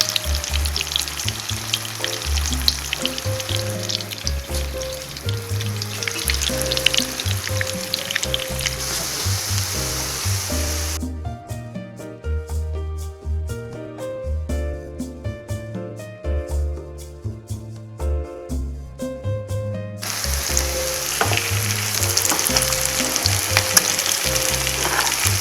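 Chicken shami kebabs, made with and without egg, sizzle in hot oil with a steady crackling hiss throughout, loud and close, briefly changing character midway before the frying resumes.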